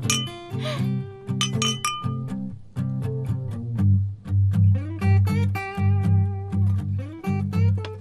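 Glasses clink together in a toast at a family dinner table, a few bright chimes standing out over a steady bed of music.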